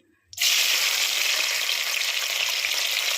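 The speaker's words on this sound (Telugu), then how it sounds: "ఉల్లిపాయలు పచ్చిమిర్చి వేసుకున్నాం పుదీనా కూడా వేసుకున్నాం అదైతే వేగుతుంది" Onions, green chillies and mint hit hot oil in a pan and burst into a loud, continuous close sizzle that stays steady to the end, with no voices.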